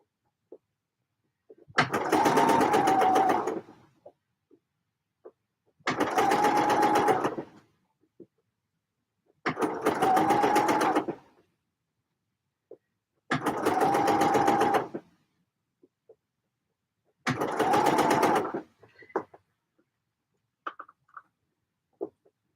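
Five separate bursts of sewing machine stitching on knit tops, each lasting roughly two seconds with short quiet pauses between them, close and fairly loud.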